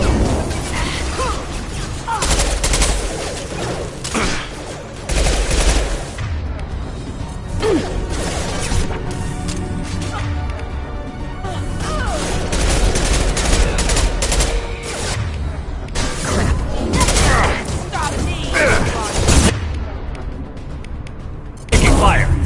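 Heavy gunfire from a Mass Effect 2 firefight, with dense bursts of shots, crashes and impacts running continuously and loudly alongside game music and effects.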